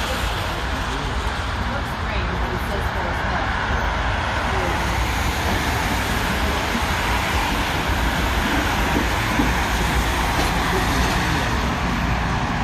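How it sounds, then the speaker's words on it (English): A Chicago CTA train pulls into Western station after a Blackhawks vs Ducks hockey game, a steady loud rumble of wheels and motor filling the whole stretch, with crowd chatter running beneath it. "Comes the train."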